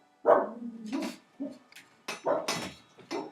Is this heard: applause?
no